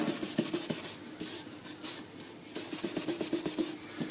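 Dry, scratchy strokes of a pencil dragged across a hard painted surface, in short repeated bursts with a brief pause midway, close and fairly quiet.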